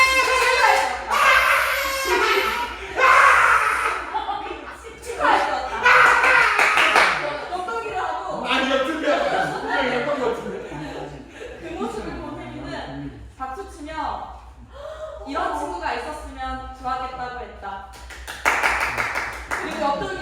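Children clap in short bursts during a drama game in a classroom, the claps overlapping with lively kids' and adult voices talking throughout.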